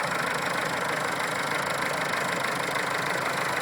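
A Massey Ferguson MF 590 tractor with a Perkins 248 diesel engine idles steadily, a close, even, continuous rumble with a fine rapid chatter and no voices.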